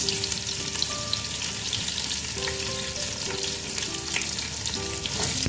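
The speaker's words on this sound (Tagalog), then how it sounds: "ilagay natin yung sibuyas" Chopped onion sautéing in a hot pan for a Filipino-style sautéed zucchini with canned sardines, giving a steady, dense sizzle with faint stirring scrapes throughout and no talking.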